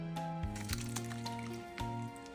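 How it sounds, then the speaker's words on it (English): Tamarind pulp mashed into a paste gives soft wet squishes and small sticky clicks, quiet and close, under a steady musical background. "Mash it to make it nice and pulpy."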